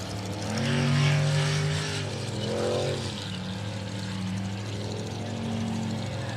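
Racing boat engines roar in the distance with a sustained drone, rising and falling in pitch as the boats pass, and a thin turbocharger whistle rides above the engine note.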